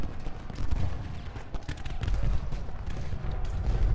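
Canister shot artillery in Ultimate General Gettysburg crackles and booms in a loud, dense battle din of overlapping reports and rumbling low thuds, continuous throughout.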